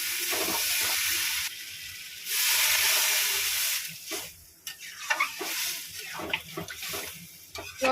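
Water poured into a pan of shrimp and taro curry with chilli and cumin powder, a loud hissing sizzle at first that settles into bubbling and stirring clatter.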